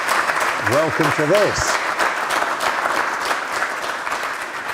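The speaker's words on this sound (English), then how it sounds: "So a big round of applause to yourself and welcome" Live studio audience applauds at a storytelling event, a broad steady wash of clapping that runs throughout, with a voice speaking over the start.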